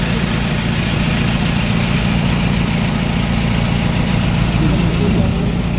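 A boat engine drones steadily on the Bidyadhari river toward Gosaba in the monsoon Sundarbans, a loud, unbroken low rumble throughout, with rain and a voice talking over it.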